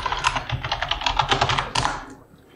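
A name being typed on a computer keyboard: a quick, dense run of close key clicks for about two seconds, then falling quiet.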